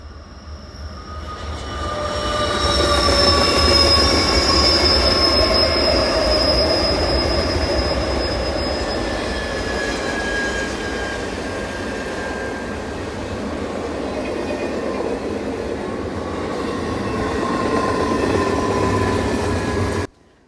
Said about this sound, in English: we see an eastbound stack train scream down the hill with full dynamics on